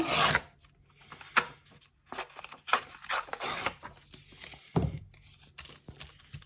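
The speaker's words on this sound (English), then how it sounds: "So I'm gonna tear it down." Paper card is torn by hand in several short, rough ripping bursts with brief pauses between them, close and fairly loud in an otherwise quiet room.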